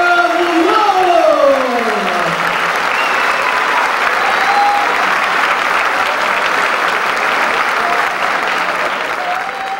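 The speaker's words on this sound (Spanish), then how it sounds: "Un aplauso a la vencedora, Silvia Muñoz." Loud, sustained applause from a crowd at a women's boxing event, greeting the winner after the first technical knockout in women's boxing history; a few whoops and voices rise above the steady clapping for about ten seconds.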